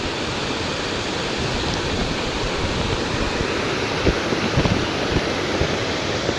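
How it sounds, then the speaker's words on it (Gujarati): Floodwater surges through a swollen river beside Bhesan village after heavy rain, a steady loud rushing roar that fills the whole clip with a few heavier splashes near the end. "અમારા ભેસ્તાણ ગામની નદીની અંદર પાણી બહુ મસ્ત આવી ચૂક્યું છે"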